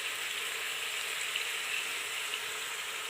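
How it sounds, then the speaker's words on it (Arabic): Onion and chicken fry steadily in a pan, a continuous close hiss and sizzle with no break and no talking. "من بعد ما تقلى لنا البصلة وهذاك الدجاج مليح"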